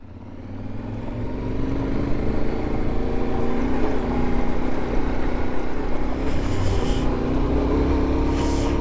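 A CFMoto CL-X 700 Adventure motorcycle ridden off-road, its engine droning loud and continuous as it builds up and holds speed, with some wind and terrain noise.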